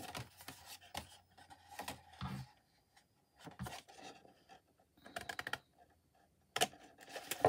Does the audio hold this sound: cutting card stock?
yes